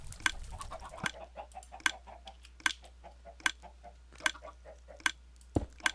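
Baby chickens in Minecraft: a series of short, clipped chirping clucks repeating at a steady, fairly even pace, faint and alone over a low, constant background hum.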